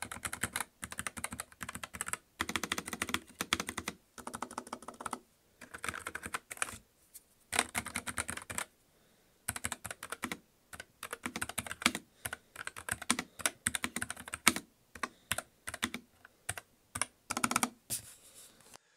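Typing on a NuPhy low-profile mechanical keyboard with brown switches: a steady stream of close, crisp key clacks in quick runs, broken by short pauses, with no voices.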